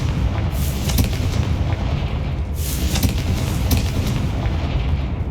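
Spell explosions in Hogwarts Legacy on Xbox Series X, a few sharp bursts, about three, sounding over a dense, constant rumble of combat noise.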